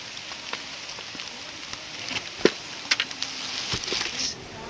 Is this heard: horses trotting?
no